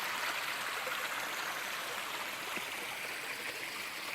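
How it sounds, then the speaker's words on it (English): Small forest creek spilling over a tiny waterfall on a wooded hillside trail near Vienna, a steady, close rushing and trickling wash of water that continues evenly throughout with no talking. "A little creek and a tiny little waterfall."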